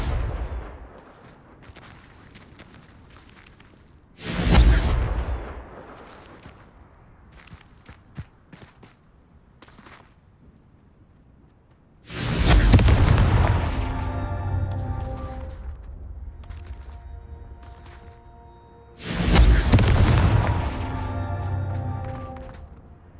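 Confringo fire spell explosions in the Hogwarts Legacy video game, three loud, close blasts spaced several seconds apart, each with a long crackling, rumbling tail, with quiet gaps between.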